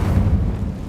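Incendio fire spell from the Hogwarts Legacy video game, heard as a short, loud, low roaring whoosh of flame that stays dense and rumbling for a second, with no voices.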